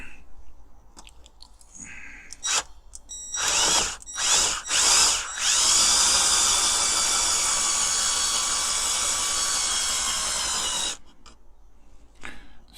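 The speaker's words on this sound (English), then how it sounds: "I'm going to drill that rivet, just drill around the edges of that one." A power drill bores out a rivet on a Corgi 219 Plymouth Sports Suburban toy car, first in a few short bursts, then in one loud, steady, high whine that runs for about five seconds before stopping.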